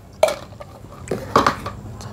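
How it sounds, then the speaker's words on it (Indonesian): Flour mixture, one kilo of wheat flour, being stirred in a bowl before water is added, giving a few scattered scraping and clinking knocks of utensil against bowl, close and moderate, over a quiet room with no speech. "nih kita aduk dulu sebelum diairin"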